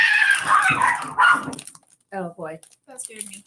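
A dog lets out a few sharp barks and yips indoors, loud and close, in short separated bursts following a scuffling commotion, with a person speaking in between.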